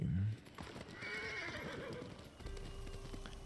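A horse in the video game Ghost of Tsushima neighs briefly at the start, then hooves clip-clop steadily at a moderate distance for the rest of the moment, with faint game ambience underneath.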